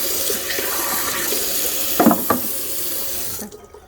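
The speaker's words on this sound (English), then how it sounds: "I like to just use the pressure of the water." Water runs steadily from a sink faucet to rinse a George Foreman stand-up grill, a continuous broadband splash with a couple of brief louder bursts near the middle before the flow cuts off at the end.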